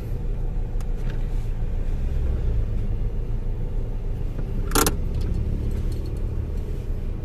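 Cars passing at a stoplight on the Manila-Batangas bypass road, a steady low rumble of traffic with one brief sharp noise midway and no talk.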